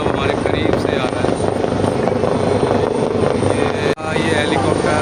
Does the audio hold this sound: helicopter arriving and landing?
yes